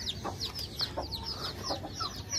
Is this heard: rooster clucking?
yes